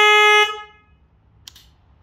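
A deep aftermarket horn on a Harley Davidson Lowrider S sounds one short, loud, close blast that cuts off and decays within a second, followed by quiet with a faint click.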